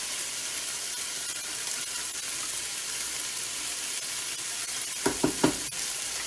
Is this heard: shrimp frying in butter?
yes